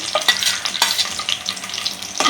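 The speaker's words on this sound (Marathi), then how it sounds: "आता हे मी भांड्यात तूप घातलेलं आहे त्याच्यात मी बदाम घालते काजू घालते" Almonds and cashews frying in ghee in a pan for mango-flavoured vermicelli kheer, giving a close, steady sizzle broken by quick scraping stirs, with no voices.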